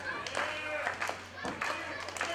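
A wrestling crowd at an indoor event claps in a few scattered bursts over a low steady hum, light and fairly distant, with a commentator talking over the applause.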